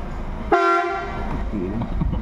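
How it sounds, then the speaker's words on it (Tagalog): A loud, sustained vehicle horn blares close by for about half a second, then fades into steady engine rumble and background noise. "Lakas ng busina"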